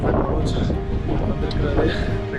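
Strong wind on a mountain buffeting the microphone with a heavy low rumble, steady and loud, while people talk underneath.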